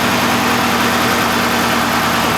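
A Dodge Charger engine idles steadily after a dry start, running smooth and loud with an even low rumble and a faint hum, close to the microphone and with no one talking.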